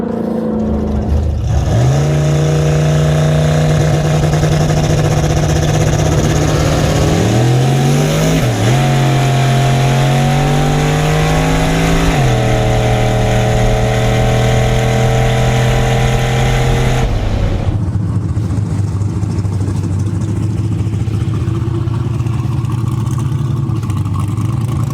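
A turbocharged small-block Jeep or LS-swapped 240SX roars loudly at close range during a test run, the engine revving and surging in pitch several times before easing off into a lower rumble.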